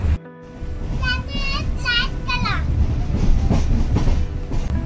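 A Diva–Ratnagiri passenger train runs through the Konkan during Ganpati season with a continuous rumble and rhythmic wheel clatter. Children's voices and chatter ride over the noise.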